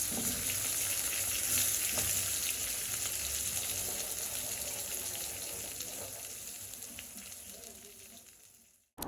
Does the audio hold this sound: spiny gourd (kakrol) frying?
yes